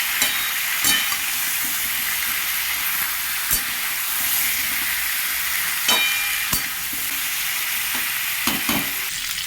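Turmeric, cumin and coriander powder stirred in a hot pan, a constant sizzling hiss broken by several sharp scrapes and knocks of the spoon, close and without talk.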